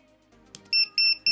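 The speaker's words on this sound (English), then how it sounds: "Whenever the reaction is fast enough, the device emits three short beeps and the LED stays on." An Arduino reaction-time game device gives three short, bright electronic beeps in quick, even succession after some faint quieter sounds.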